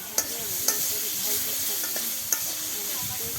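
Chopped ripe tomatoes go into a frying okra curry, with a continuous close sizzle broken by a few sharp clicks and scrapes of a stirring spoon against the pan, no voices.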